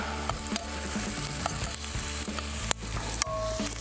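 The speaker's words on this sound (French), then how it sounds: "Avec une belle braise dans même, ça cuit vite, là." Fish fillets sizzling and frying over hot embers, a steady crackling hiss with occasional sharp pops and clicks, close by and with no voices.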